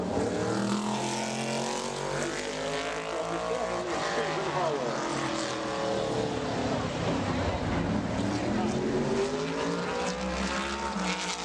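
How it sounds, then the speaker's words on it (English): A modified race car laps Bowman Gray Stadium during qualifying, its loud engine roaring steadily and sweeping past with rising and falling pitch, with an announcer talking over it throughout. "And now here comes the backup car for Lee Jeffries. That is the number 77 of Susan Harwell from Jonesville, North Carolina."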